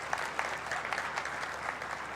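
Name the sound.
audience applause welcoming a guest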